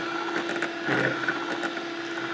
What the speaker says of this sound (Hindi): बीटर की मदद से हमारी मैंगो आइसक्रीम बहुत अच्छे से मिक्स हो जाएंगी तीनों चीज़ें